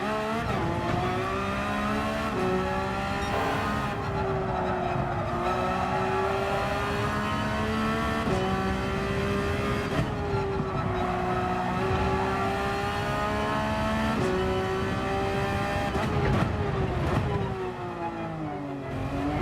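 Porsche 992 race car lapping Laguna Seca in Gran Turismo 7, engine revving up and dropping through repeated gear shifts, loud and close, with tires squealing in the corners.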